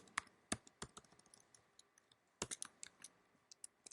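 Keys clack on a computer keyboard as code is typed, quiet and close, in uneven bursts of sharp clicks separated by brief pauses.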